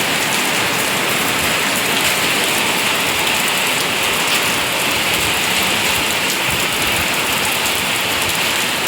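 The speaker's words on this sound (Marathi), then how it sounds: "बाहेर चालू झाला आमच्या पाऊस सगळं भिजलं" Heavy rain pours down in a steady, dense hiss without a break, loud and close, with no voices.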